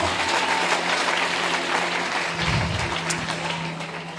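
A church congregation claps together in steady, full applause at worship, loud and sustained for several seconds, with no voice standing out above it.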